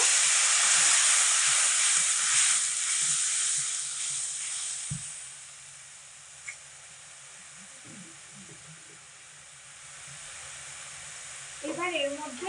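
Water splashed into hot spices with salt and turmeric in a pan for cauliflower kalia, a loud hissing burst of steam that slowly fades to a softer sizzle, with a few faint clinks.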